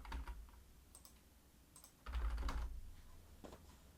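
Keystrokes on a computer keyboard while entering text into a web form field, quiet soft clicks in a sparse scattered rhythm with a short denser, louder burst midway, close to the mic and with no talking.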